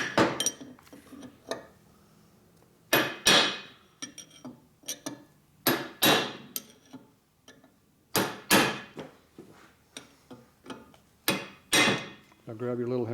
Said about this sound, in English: See how the bigger hammer gives you more control?